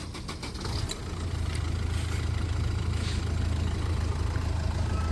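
A vehicle engine idles nearby, then its steady low rumble grows louder and holds as the vehicle pulls away, with a few sharp clicks near the start and no talk.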